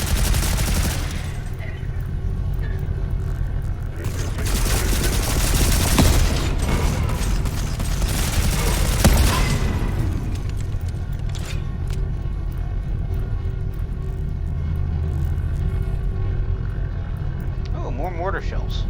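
Mortar shells exploding in the Volcanoids survival game, a sustained rumble of heavy blasts swelling around the middle, with someone talking over the noise.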